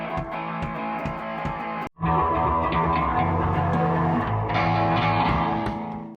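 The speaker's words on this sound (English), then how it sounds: "I'm recording my band here playing and we're really loud, but the sound is clear." A loud band plays together through an Oppo Reno 10X phone mic, a dense, full mix with steady drums and sustained instruments, broken by a brief dropout near the two-second mark before the music resumes.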